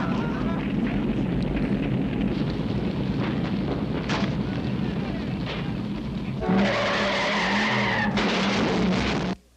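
A car skids with a screech during a dramatic scene from the horror film When a Stranger Calls, loud and continuous over a dense soundtrack, with a harsher burst near the end.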